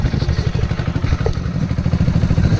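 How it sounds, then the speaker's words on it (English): A 2020 Kawasaki KLX110L motorcycle engine idling as it warms up, with a loud, close, steady single-cylinder putter and a faint mechanical clatter. "while you're letting the engine warm up, before you drain the oil"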